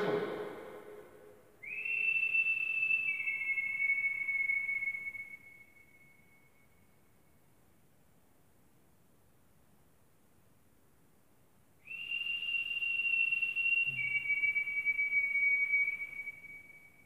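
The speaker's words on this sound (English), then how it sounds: "What if I whistle?" A person whistles two long sustained tones, each a bright note that steps slightly down in pitch, separated by several seconds of near silence indoors.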